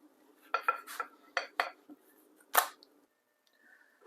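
A spatula flips an egg in a frying pan while making a breakfast burrito. A quick series of sharp metallic clinks and scrapes sounds close by in a quiet kitchen, then a single louder clank and silence.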